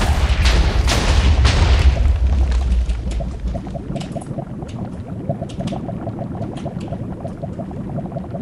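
Explosions in the Minecraft video game while a volcano is built with commands, a heavy booming rumble at first, then settling into a steady bubbling, popping crackle.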